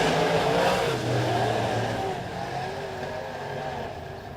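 Modified dirt race cars at Springfield Raceway roar together in a side-by-side battle down the backstretch. The loud, dense engine drone tapers slightly as the pack moves on.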